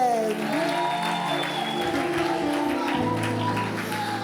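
A church congregation claps and cheers in a sustained burst of applause, mixed with voices and music that run under it throughout.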